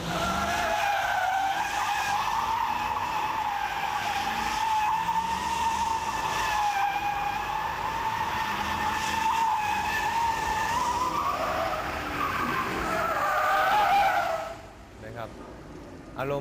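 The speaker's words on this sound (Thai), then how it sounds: "อันนี้เป็นการโดนัทนะครับ" A car spins donuts on open pavement, tires skidding and squealing in a loud, sustained wail with the engine revving beneath, fading abruptly near the end.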